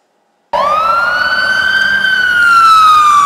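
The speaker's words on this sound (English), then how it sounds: "Oh, look. An ambulance." An ambulance siren starts abruptly after a moment of silence, one long rising and slowly falling wail, loud and close.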